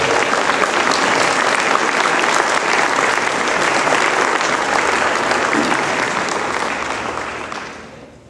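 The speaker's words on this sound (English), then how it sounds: "Let's everybody give her one more big round of applause." Loud, sustained applause from a large audience at a sports hall of fame induction gala, steady and dense for most of the stretch before tapering off near the end.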